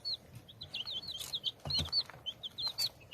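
Small chicks peep and chirp steadily and fairly faintly while pecking at finely chopped scrambled egg, with soft tapping and shuffling noises underneath.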